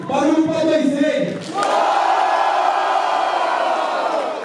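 Loud crowd roars and whoops at a rap battle duel in Paraná, a dense wall of shouting voices that dips briefly then surges back and holds steady to the end.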